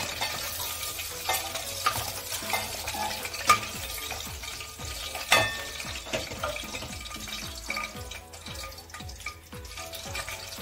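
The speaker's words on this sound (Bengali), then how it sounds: "আমি দ্বিতীয়বারেও ভাজার জন্য চিকেনগুলো আবার ছাড়লাম" Chicken pieces fry in oil with a busy, crackling sizzle that rises and falls, broken by occasional louder pops and stirring scrapes, with no voices.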